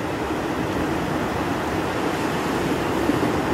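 Dirty, seaweed-laden sea waves roll onto a Black Sea beach at Vityazevo near Anapa, giving a steady, dense wash of surf with wind rushing across the microphone and no pause throughout.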